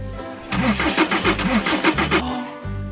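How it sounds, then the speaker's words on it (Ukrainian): A cartoon tractor on a farm being started but failing to catch: the starter cranks in a quick, loud, rhythmic chug for about two seconds, then cuts off, leaving only a low steady hum before and after. "а тепер нам треба завести трактор"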